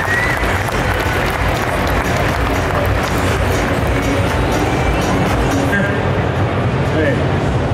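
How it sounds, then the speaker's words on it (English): A large crowd at the Arnold Sports Festival UK applauds for bodybuilder Sam Sulek, a loud, continuous wash of clapping and cheering that fills the hall throughout. "round of applause for Sam Stulek"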